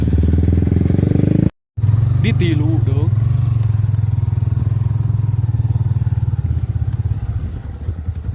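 Trail motorcycle engine chugging steadily at close range on a mountain route near Pangalengan toward Mount Artapela, the rhythmic thump continuing under brief speech before fading slightly at the end.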